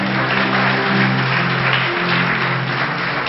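A congregation claps loudly and continuously in a church gathering, a thick wash of applause with sustained musical tones droning underneath.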